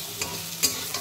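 Small puti fish frying with onion in a pan, a soft close sizzle broken by a few quick stirring scrapes over about a second.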